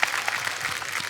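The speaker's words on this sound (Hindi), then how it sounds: "उसके लिए जोरदार तालियां बनती हैं।" Brief burst of studio audience applause on a Hindi television comedy show, steady clapping heard alone at moderate loudness.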